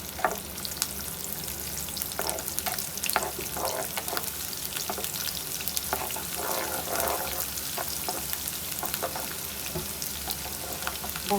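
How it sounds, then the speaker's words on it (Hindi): Onions fry in about half a cup of hot oil in a pan, a continuous loud sizzle with stirring scrapes and crackles running steadily from start to finish. "प्याज डाल देते हैं, प्याज को हल्का फ्राई करते हैं"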